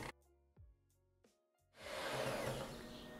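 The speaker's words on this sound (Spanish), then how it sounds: "voy a batir un poquito más hasta que ya vea que tiene piquitos así ligeritos" An electric mixer whisks egg whites with lemon juice for a Japanese cheesecake, a few faint clicks and knocks at first, then the motor whirs up into a steady, close, moderately loud buzzing hum.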